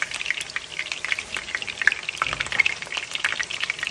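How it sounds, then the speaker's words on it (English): Meatballs browning in a frying pan give off a steady crackling sizzle with fine popping spatters, close up and continuous, with no voices. "We're just browning them a little bit."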